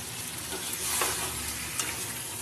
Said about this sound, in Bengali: এর মধ্যে অল্প একটু জল দেবো আর ভালো করে কষিয়ে নেব